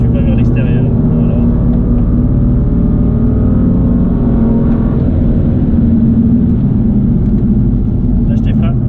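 A car accelerates hard around the Le Castellet circuit, its engine a loud, steady, dense roar through the whole stretch, with a voice talking faintly over it.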